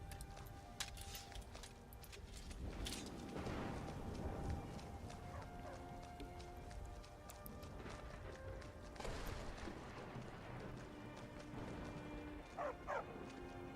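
Dog barking in a Skyrim-style fantasy game town: a few faint scattered barks and yips over hoofbeat-like clopping, footsteps and background ambience.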